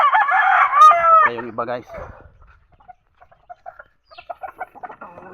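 Backyard chickens and a rooster kept for feeding: loud crowing opens, followed by scattered clucks and short calls, with someone speaking over the birds.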